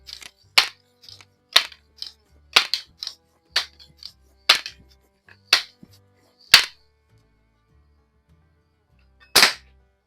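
A Kessler multi-pump .22 airgun with a Redfield 3200 scope gives a series of sharp, close mechanical clicks and snaps as it is pumped and cocked, then fires with a single crisp crack after a short pause.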